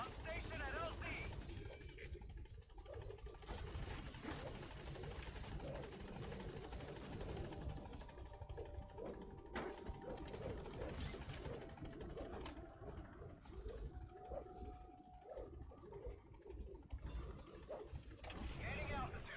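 Pequod's helicopter in Metal Gear Solid V coming in to the landing zone, a steady close rotor whir that fills the scene throughout, with radio-style voice chatter and other game sounds layered over the engine.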